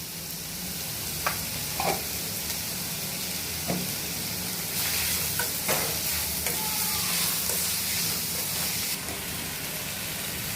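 Onions frying with a little salt in a pan while making an egg and potato kurma, a steady hissing sizzle with occasional stirring scrapes and knocks, growing briefly louder and brighter in the middle.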